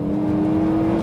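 A race car at Cadwell Park circuit holds a loud, steady engine drone close to the microphone during a short-shifted change into third gear on a lap. The engine tone stays even and sustained with no voices.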